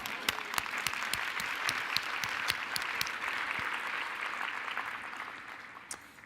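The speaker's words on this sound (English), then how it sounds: "please clap for yourselves." A roomful of participants at a financial security forum claps for themselves, a dense wash of applause with a few sharp individual claps standing out, slowly thinning toward the end.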